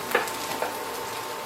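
Sizzling of spinach hitting a hot pan with sautéed garlic and onions, a sharp crackle at the moment of contact over a steady frying hiss, close and moderately loud.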